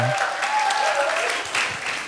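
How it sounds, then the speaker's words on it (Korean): Church audience at a college worship service applauding after a sung song, a dense, steady wash of clapping lasting a couple of seconds, with a voice faintly over it. "이렇게 못 부른 노래에 박수를 쳐주다니"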